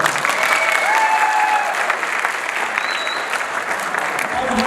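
Sustained audience applause and crowd clapping at a live Uzbek music concert in Tajikistan, dense and steady throughout with faint voices and a brief whistle-like tone mixed in.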